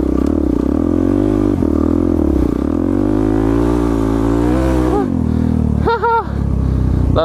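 A supermoto motorcycle revs loudly and close while it drifts. The engine note rises and falls steadily, then briefly drops near the end before picking up again.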